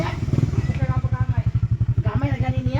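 A motorcycle engine putters in a fast regular pulse close by, its idle throbbing steadily under a person talking over it, with a slight rise in revs near the end.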